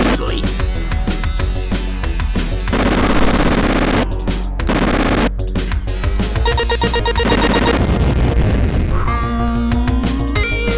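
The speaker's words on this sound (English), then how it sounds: "once you get your machine gun, these guys go down way too easily." Continuous loud machine-gun fire in The Terminator on the Mega Drive, rapid bursts layered over driving game music and explosions, with brief gaps between volleys.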